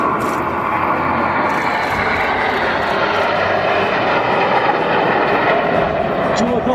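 Bristol Blenheim piston aircraft engines at the Duxford air show, a loud, continuous droning roar throughout while a commentator talks over it.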